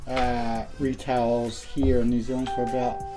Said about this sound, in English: Sorry about my phone binging